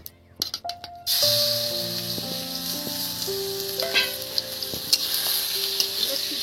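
Chicken pieces dropped into hot oil for chicken piyaji burst into a loud, continuous frying sizzle after a few sharp clatters, with utensil clinks and rattles over the steady hiss.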